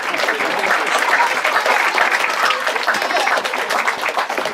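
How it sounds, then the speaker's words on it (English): Wedding guests at a reception applaud during a best man speech, a loud, even wash of many people clapping that holds steady throughout. "Everyone like to give Matthew a lovely round of applause for ruining his wedding night."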